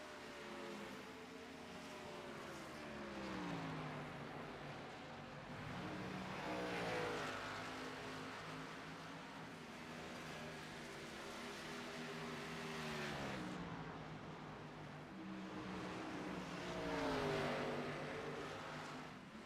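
NASCAR Xfinity Series race cars in iRacing at Iowa roar past with sweeping engine drones that rise and fall in pitch as they pass, several cars in succession, loud and continuous.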